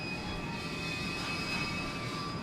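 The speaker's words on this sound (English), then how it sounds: "God, this train, it's just rolling back and forth, doing its train business." A slow-moving train rolling back and forth gives a steady low rumble with a faint high whine running through it, continuous and moderately distant with no speech.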